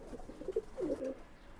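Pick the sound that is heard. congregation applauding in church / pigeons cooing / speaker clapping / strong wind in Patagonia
pigeons cooing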